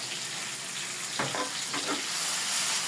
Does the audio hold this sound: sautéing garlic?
yes